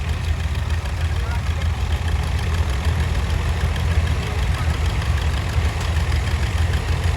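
A 1958 Oliver 550 diesel tractor at a farm days parade, its engine chugging at a low idle with a steady rumbling knock, while a voice talks over a loudspeaker amid outdoor crowd noise.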